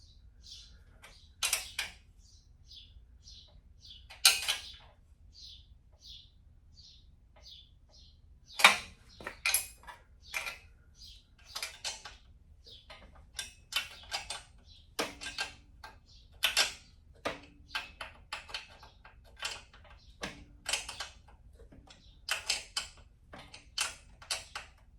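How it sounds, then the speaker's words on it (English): A ratcheting wrench tightens bolts on a 1972 Super Beetle engine during a refresh, giving sharp clicking creaks in short irregular bursts with pauses, close and otherwise quiet. "Tighten them down with a wrench now."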